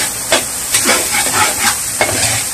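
Garlic and onions sautéing in a pan, a steady loud sizzle with a few sharp bursts as a utensil stirs and scrapes through them.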